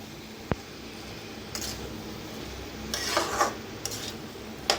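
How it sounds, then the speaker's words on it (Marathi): A potato and cabbage dish is stirred in a pan, giving a few brief bursts of scraping and clatter over a soft, steady background hiss, close by and without speech. "छान असं मिक्स करून घेऊया."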